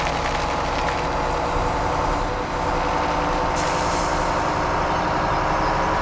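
A truck engine drones steadily as the vehicle drives toward the sell point in Farming Simulator 17, a loud, continuous rumble with a brief hiss partway through and no talking.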